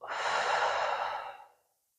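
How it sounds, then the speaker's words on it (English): A single deep, slow exhale from a person during a diaphragm breathing exercise, close and breathy, fading out to silence near the end. "and then a deep breath out"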